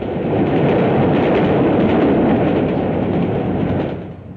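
A British diesel multiple unit train runs past in 1959 footage, a loud, close, continuous rumbling roar that eases off slightly at the end.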